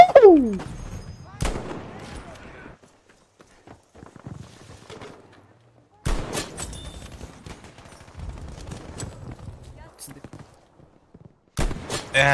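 Krag sniper rifle fire in Battlefield V: sharp, isolated loud shots spaced seconds apart, each with a lingering tail, separated by quieter battlefield ambience with some speech.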